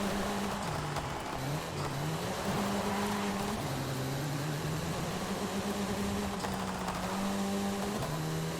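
A 2009 Mini John Cooper Works in Forza Horizon 5 drives along with a steady, fairly quiet engine drone that rises and falls through gear changes, with no talking.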